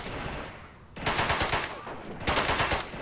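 Machine-gun fire crackles in the Men of War Assault Squad 2 video game, with loud sustained bursts broken by a brief pause and then a second long burst, all fairly close.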